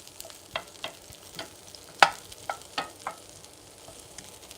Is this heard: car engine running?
no